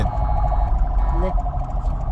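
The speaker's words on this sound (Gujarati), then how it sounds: "પોલીસની ગાડી લાગે છે જો એમ્બ્યુલન્સ છે" Police car or ambulance siren on a city street in Nigeria, a steady wailing tone amid loud traffic rumble, with a voice talking briefly over it.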